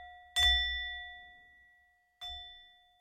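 Bell ringing during a breathing meditation session, two clear struck tones with long ringing decays, the second softer, heard alone.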